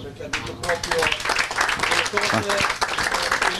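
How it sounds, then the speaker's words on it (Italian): Football players clapping for Gianluca at the Gabicce Gradara Calcio 2019-2020 season presentation; a dense patter of hands starts after a brief pause and runs steadily beneath a speaking voice. "Io inviterei i giocatori proprio a fare un applauso a Gianluca"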